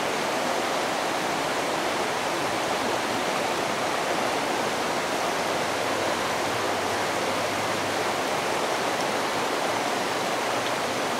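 A small waterfall on the Piukenai River rushes steadily, a close, constant broadband roar of falling water with no pauses or voices.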